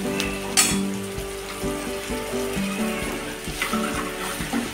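Ground masala paste sizzles and fries in hot oil in a pan, a steady close crackle with occasional louder spits and stirring scrapes, no talking over it.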